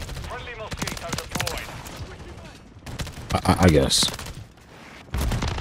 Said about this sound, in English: you can't see shit with that fire shotgun shooting at you